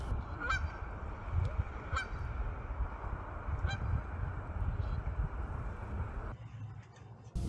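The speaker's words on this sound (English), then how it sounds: "until Mother Goose spotted Lexi from the brush and then sounded the alarm" Geese honk in a few sharp, loud alarm calls from a mother goose near the water at a camp in Algonquin Park, over steady outdoor background noise, then go quiet.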